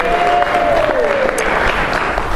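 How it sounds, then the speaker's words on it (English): Audience applauding steadily at a conference session for millennials, a dense, continuous wash of clapping throughout with cheering and a rising whistle-like voice near the start. "Let's clap for them."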